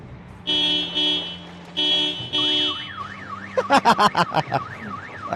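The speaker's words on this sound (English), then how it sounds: "The environmental alarms are doing us favors right now." Inside the video game Project Zomboid, an environmental car alarm sounds: repeated honking blasts, then a wailing up-and-down siren tone and rapid chirps, loud and sustained with no talk over it.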